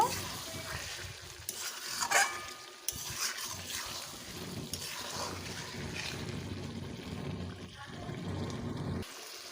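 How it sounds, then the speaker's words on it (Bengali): Mutton pieces are stir-fried in a pan for mutton kosha: a quiet, continuous sizzle with scraping and stirring strokes that come and go in uneven bursts. "মাংসগুলোকে ভালোভাবে এবার কষবো খুব ভালোভাবে কষে নেব"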